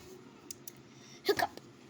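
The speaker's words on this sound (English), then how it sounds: "Hiccup." A single quick hiccup, a short double-pulsed catch of breath, stands out against quiet room tone with a few faint clicks around it.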